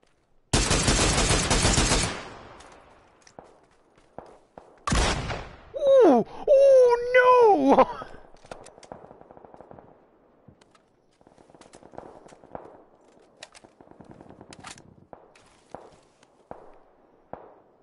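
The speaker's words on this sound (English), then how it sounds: "The gun takes way too long to fucking shoot." A video game gun fires in two loud, harsh broadband bursts a few seconds apart, followed by scattered quieter clicks and thuds against near silence.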